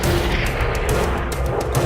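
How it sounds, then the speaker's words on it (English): USS Massachusetts, a World War II battleship, firing her 406mm main guns, a loud sustained rumbling roar with heavy low booms throughout, no voices. "Massachusetts finally fired her first shots from her"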